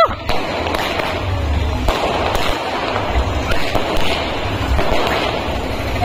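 Sharp firecracker bangs at a wedding procession burst at irregular intervals over a continuous rumbling background, loud and close, with no talking.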